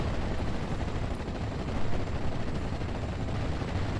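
Dense, sustained battlefield gunfire and explosions roar continuously as an AVRE tank fires in the Steel Division Normandy 44 video game, a loud wall of overlapping blasts with no pause.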